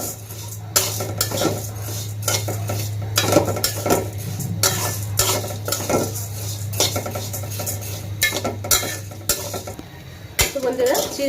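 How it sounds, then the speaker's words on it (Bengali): Flattened rice (chira) being dry-roasted in a pan: steady scraping and clinking of a utensil stirring against the metal, with light rustling of the flakes, close and continuous, no talk. "এবার চিড়া করাও একটু ভেজে নিব।"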